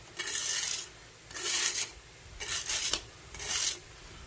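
Silver scrap scraped into a casting flask: four separate gritty rasping strokes, each under a second long, close and fairly loud with short pauses between them.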